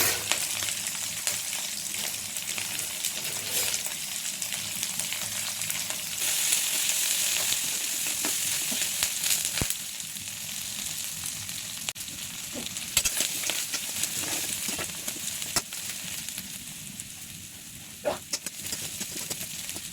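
Shallots, garlic and green chilies frying in a pan, giving a steady crackling sizzle throughout with occasional stirring scrapes and spatters. It stays fairly even and close, with no talk.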